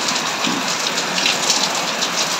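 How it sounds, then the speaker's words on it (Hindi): Heavy rain falls in a dense, unbroken hiss with pattering drops on surfaces, loud and close, with no voices. "बहुत जोर से वर्षा"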